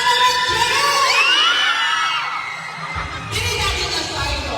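Loud crowd shouting and cheering at a municipal courtesy call to the mayor in Mambusao, with overlapping whoops and yells that swell early, dip briefly, then surge again near the end.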